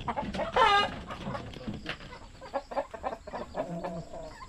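Chickens squabbling at close range on a backyard farm, with a burst of sharp, loud clucks and squawks early, then scattered lower clucking and rustling, while people talk quietly nearby.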